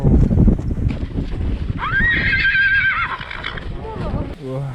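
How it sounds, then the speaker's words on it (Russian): Yakut horses at a horse-breeding farm give a loud, close whinny while hooves clip-clop steadily, with wind noise and people talking and urging over it. "якутские кони"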